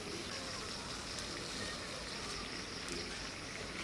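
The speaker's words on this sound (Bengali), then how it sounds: "এই যে জল ফুটেও গেছে।" Water boiling for Darjeeling tea makes a faint, even, continuous bubbling hiss that holds steady throughout, with no voices.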